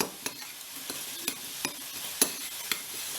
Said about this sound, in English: I'll get a spoon and just mix that round together